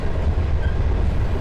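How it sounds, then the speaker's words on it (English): Train rolling on rails in a train simulator video game: a steady, loud low rumble with faint wheel clatter throughout, no voices. "as you can see, this train has a bit of pendular action"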